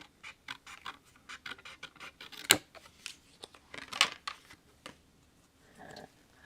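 Scissors snip through paper card pieces for handmade holiday cards, a run of quiet, close cuts with two sharper, louder snips standing out partway through.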